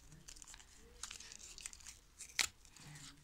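Paper surprise packet torn open by hand: a crinkly, rustling tear with a sharp louder rip near the end, close and fairly quiet, no talking.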